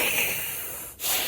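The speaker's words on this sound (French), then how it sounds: "Respirez. Par la bouche." A patient in a doctor's examination breathes deeply through the mouth, a long, loud, breathy inhalation or exhalation with a brief pause before another breath begins, close and clear.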